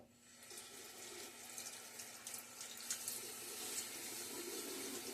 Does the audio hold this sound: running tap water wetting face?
yes